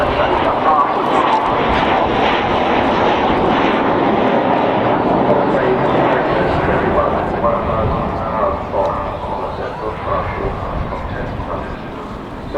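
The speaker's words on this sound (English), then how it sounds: "On bay doors coming open as she goes by now. That is the size of the Vulcan." An Avro Vulcan bomber flies past at an airshow in Southport with its bomb bay doors open, a loud, continuous engine roar that slowly fades. A commentator talks over it and a dog barks nearby.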